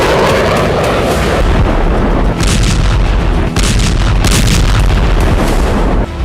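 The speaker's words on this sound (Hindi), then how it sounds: "मिसाइलों से ताबड़तोड़ विस्फोट शुरू हो गया।" Loud, dense barrage of booming explosions from missile bombardment in Ukraine, continuous rumbling blasts with sharper bursts around the middle and end, no voices.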